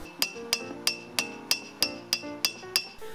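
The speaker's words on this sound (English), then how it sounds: "take it over to my anvil, and begin hammering on it." Hot metal struck with a hammer on an anvil: nine evenly spaced, loud, close blows, each with a bright metallic ring that decays before the next, ending in a softer scrape.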